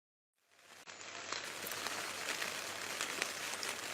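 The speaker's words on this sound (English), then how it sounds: "It's been raining all night." Rain falling steadily on a Coleman WeatherMaster 6-person tent in the early morning, a continuous near patter that starts after a brief silence and holds at an even level, with no voices.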